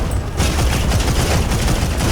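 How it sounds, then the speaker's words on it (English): A pulse rifle in the vehicle combat game Crossout fires energy shots in a dense, rapid, unbroken volley. The crackling fire stays loud and close for the whole burst, with no talk. "It's like pulse rifle, kind of shoots little energy sparks"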